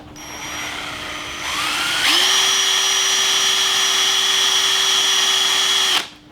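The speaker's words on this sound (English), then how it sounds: "Again, I'm using a drill for this." A handheld power drill spins up to drive a DIY neodymium-magnet alternator, its motor whine rising in two steps to a steady high-pitched hum, then cutting off abruptly; close and loud, with no voices.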